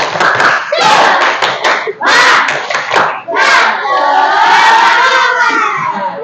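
A classroom group claps together in a quick patterned rhythm, loud and close, with children's voices shouting along between the claps.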